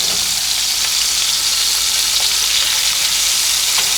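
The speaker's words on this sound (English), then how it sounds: "Give that a nice little mix." Sauce sizzling steadily in a frying pan while being stirred, a dense, loud hiss that holds throughout with faint scraping touches, no talking.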